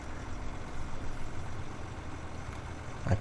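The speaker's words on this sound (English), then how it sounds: "This tractor is struggling a bit with this trailer." A tractor in Farming Simulator 2009 strains while pulling a trailer, giving a steady low rumbling engine drone at moderate level with no voices.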